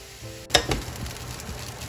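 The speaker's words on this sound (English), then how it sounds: "Now that the veggies have been cooking for a while, we're going to throw the rice in." Cooked rice tossed into a hot pan of vegetables for shrimp fried rice, a sharp clatter and hiss of the first sizzle followed by a steady low frying crackle, close up, with no talking.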